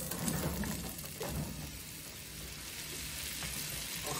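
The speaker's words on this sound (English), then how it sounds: "add that remaining tablespoon or so of oil to the pan, and in go our veggies." Vegetables fry in a tablespoon of oil in a skillet over medium-high heat, producing a steady, even sizzle that holds at a moderate level from start to finish, with no talking.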